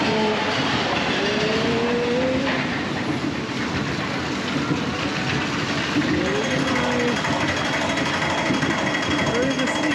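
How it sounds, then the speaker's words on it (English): A front-row ride on the Big Apple roller coaster at Great Yarmouth Pleasure Beach gives a continuous loud rattling clatter of wheels on track with wind noise, and faint voices mixed underneath. "enjoy this front row POV on the Big Apple coaster"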